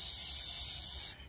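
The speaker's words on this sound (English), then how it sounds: "give them a bit of a spray with some penetrant fluid" Penetrant fluid sprayed from an aerosol can onto the front brake carrier bolts of a Ford Mondeo Mk4: one steady close hiss that lasts about a second, then stops suddenly.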